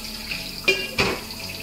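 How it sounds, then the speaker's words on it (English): Boiled salt fish is rinsed under a running kitchen tap, a steady close flow of water broken by two short splashy bursts as the fish moves under the stream. "Rinse it well again."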